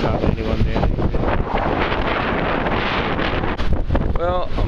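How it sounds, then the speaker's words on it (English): Strong wind buffets the microphone in a steady roaring rush, with gusty low rumble throughout and a faint voice briefly audible near the end. "You might be able to hear. It's very windy."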